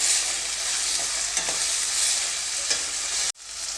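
Steady loud sizzle of avarekalu beans and tomato frying in a pan, a continuous hiss with occasional stirring scrapes, cutting off briefly near the end before resuming; no voices.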